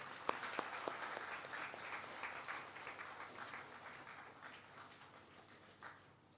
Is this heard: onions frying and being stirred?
no